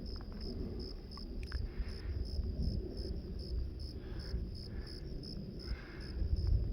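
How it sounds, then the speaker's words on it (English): Many crickets chirp in a dense, pulsing chorus among hills, their high trills rising and falling over a low outdoor rumble, faint and continuous with a slight echoing quality. "there's so many crickets in here that the sound is actually echoing off of the hills"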